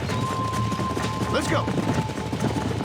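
Horse hooves clatter in a dense galloping rush in the Red Dead Redemption video game, steady and loud under a wash of ambient noise, with a brief spoken line over it.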